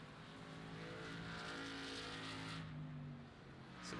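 A race car engine in the iRacing simulator on an oval-road course, droning steadily at high revs with sustained harmonic tone, throttle easing slightly near the end before climbing again; commentary is faint or absent.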